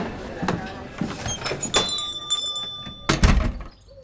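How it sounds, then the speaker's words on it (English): Small bells hung on a diner door ring out in bright, sustained tones over thuds and bumps from the door, with people talking nearby. "You mean these bells on the diner door?"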